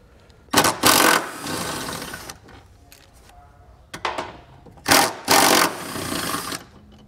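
A 13mm socket on a power tool loosens exhaust bracket bolts on a 2021 Jeep, with two pairs of loud, close whirring bursts separated by quieter clicks and rattles of the tool.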